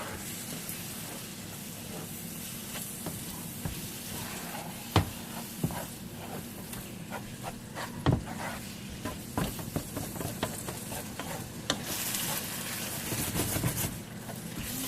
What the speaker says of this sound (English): And we're just going to heat that through. Stir it around real good.